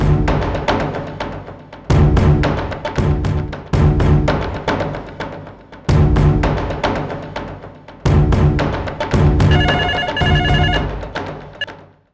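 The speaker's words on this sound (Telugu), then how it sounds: "కృష్ణన్నయ్య, నీకు ఫోన్ చేయటానికి ఇప్పటికి తీరిక దొరికిందన్నమాట." A telephone rings loudly in repeated bursts of about two seconds each, separated by short gaps, with no voices.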